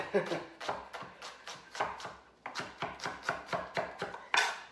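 A knife mincing a strong onion on a cutting board gives rapid, evenly spaced chopping taps, close and crisp, continuing in a steady rhythm with a brief pause partway through.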